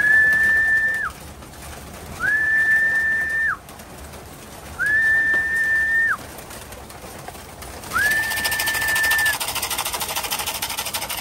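Racing pigeons at a loft in the Philippines give repeated drawn-out cooing calls, four even notes at regular gaps, clear and fairly close against a quiet hiss of background.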